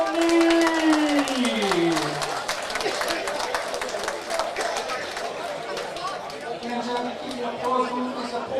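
Crowd at a boxing club home show claps and chatters in a busy hall after a bout's decision, a continuous murmur of voices with scattered applause throughout.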